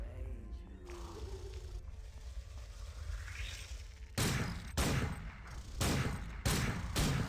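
Weapon fire from System Shock 2 against a creature: repeated loud broadband bursts in the second half, several shots spaced roughly half a second to a second apart, following a quieter stretch of ambient game noise and growls.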